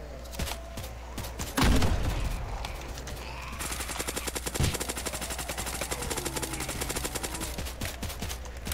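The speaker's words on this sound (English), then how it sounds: "Turret to the rescue." Rapid automatic turret gunfire in a Roblox zombie survival game, continuous bursts of fast repeated shots with a heavy boom near the start, loud and close with no talking.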